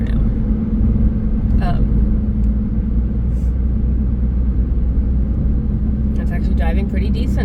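A 2015 Mitsubishi Outlander cruises along the road, a loud steady low rumble of engine and tires filling the cabin, with a person speaking over it.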